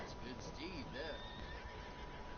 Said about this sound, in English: It's good to rest your horses up and let them be horses.